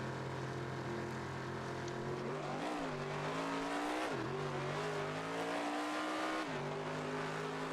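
A nitrous small-tire drag car in BeamNG.drive accelerates hard, its engine a loud, sustained buzzing whine that climbs in pitch through each gear, dipping briefly at the shifts before rising again.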